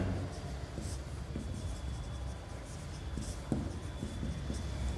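Chalk or marker scratching on a board during a physics lesson on lens magnification numericals, steady and continuous with a few sharper taps, over faint room noise and no talking.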